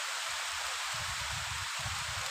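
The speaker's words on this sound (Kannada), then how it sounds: "ಚೆನ್ನಾಗಿ ಬರ್ತಾ ಇದೆ ಮಳೆ" Rain falling steadily on open farm fields, a constant broad hiss with faint low rumbling pulses underneath, no voices present.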